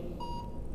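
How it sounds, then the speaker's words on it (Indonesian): A phone notification chime goes off during an Islamic study lesson, a short faint tonal beep sitting over low room hum, brief and quiet with no speech. "Notifikasi."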